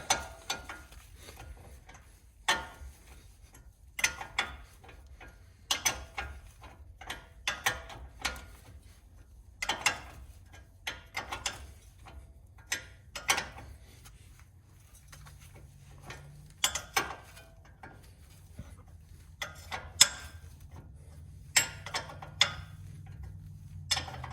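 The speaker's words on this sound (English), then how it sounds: "you need to hold it still while you turn this nut" Ratcheting wrench turning a nut on the tie rod end of a Mercedes ML320, a long run of sharp, irregular metallic clicks up close in a quiet garage, no talk.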